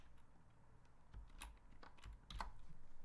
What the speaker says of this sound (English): I'm typing it out